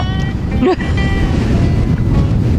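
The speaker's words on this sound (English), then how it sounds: "Oh boy, that's windy." Strong wind roars and buffets a microphone continuously on a lake in the Okanagan, a loud rumbling gust with a brief voice and a few faint tones over it.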